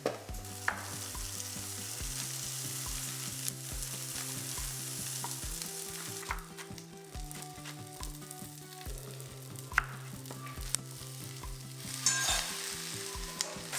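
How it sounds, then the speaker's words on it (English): Onions sauté toward golden brown in a pan, a steady crackling sizzle under a looping rhythmic music bed, with occasional louder stirring clinks and no talk. "So I'm basically sauteing all the onions until they're like kind of golden brown."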